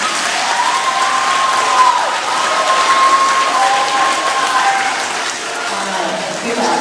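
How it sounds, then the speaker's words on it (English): Boys and girls clap together in a sustained, loud round of applause at a bike and fire safety gathering, a dense wash of hand claps lasting throughout with some faint voices mixed in. "give yourselves a round of applause"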